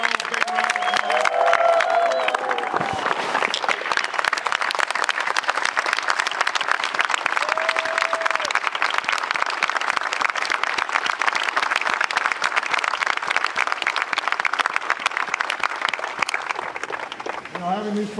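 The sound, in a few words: crowd applause for wounded warriors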